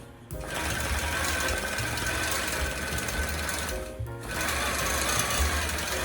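A longarm quilting machine stitching through a basted Dream Big panel quilt, a loud, close, continuous mechanical rattle with a steady rapid rhythm and one brief dip in the middle.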